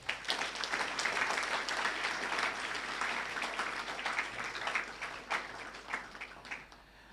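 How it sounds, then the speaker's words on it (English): A large audience at a youth entrepreneurship and leadership event breaks into sustained, dense applause, steady and fairly loud throughout before thinning slightly at the end, with no talk over it. "give a round of applause for yourself"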